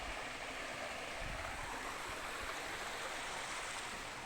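River stream flowing at a riverside, a continuous soft wash of rushing water heard steadily at a distance with no voices.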